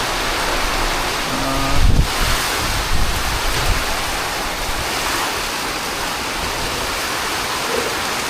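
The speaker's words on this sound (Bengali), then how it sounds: "প্রচুর ঝড় হচ্ছে এবং প্রচুর বৃষ্টি নেমে গেছে" Heavy rain and gusting wind of a Kalbaishakhi nor'wester storm roar steadily as a dense, loud wash of noise, with a few brief thumps near the start.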